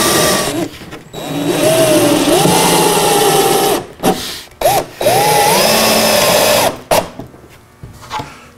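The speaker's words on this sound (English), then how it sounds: "And drill a hole." A power drill whirs in several bursts as it bores a hole in a drawer part, its motor pitch rising and falling, with brief pauses between runs; close and loud.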